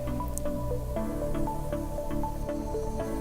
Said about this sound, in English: what I'm going to do is add 5 drops into the water